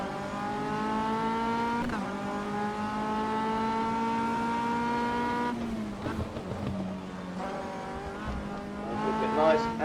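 A Radical SR3 RSX or MCR 2000 race car powers out of a corner on a track, its engine climbing steadily through the revs with a gear change midway and brief tyre noise, loud and close, with a driver talking over it.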